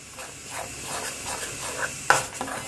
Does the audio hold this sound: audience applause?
no